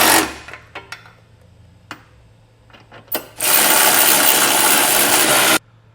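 Power tool with a 19mm socket snugging the bolts of an etrailer hitch receiver on a 2020 Nissan Pathfinder, a few short clicks and bursts, then one loud, steady whirring run of about two seconds up close.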